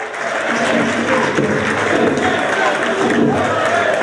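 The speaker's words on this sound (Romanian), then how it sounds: "Aplauze!" A crowd at a 2016 parliamentary candidates' launch event in Neamț applauds to welcome politician Traian Băsescu: loud, sustained, dense clapping mixed with crowd murmur and scattered cheers.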